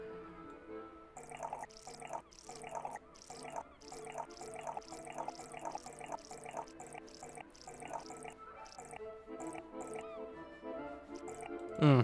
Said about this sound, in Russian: 80 оливкового масла наливаю.